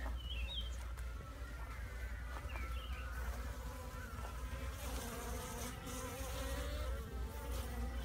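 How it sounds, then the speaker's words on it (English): Bees buzz continuously at a hive entrance, a dense humming swarm with individual insects droning past close by. "just had a couple of bees trying to get at me there"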